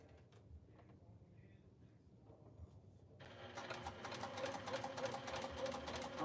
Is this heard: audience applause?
no